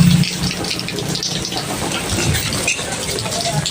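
Steady rain fills the scene as a broad, continuous hiss of drops near a roadside food stall, loud and unbroken throughout with no voices.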